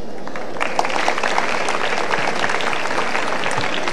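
Audience applause fills a hall at the opening of the Djibouti international fair: dense, steady clapping from a large crowd that holds at an even level for the whole stretch, with no voices over it.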